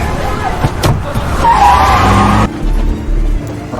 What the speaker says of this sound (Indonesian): Mika menubruk ninja itu dengan mobil dan berhasil menyelamatkan Raisho.